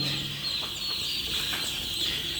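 A dense, steady chorus of high chirping from many chicken chicks, constant and fairly close, with faint low rustling beneath.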